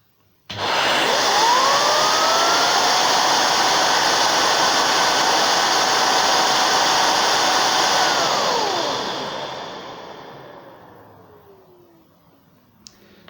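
A Numatic Henry Xtra vacuum cleaner switches on abruptly and runs loud and steady with a whining fan for about eight seconds, then the pitch falls as the motor spins down and fades to near silence.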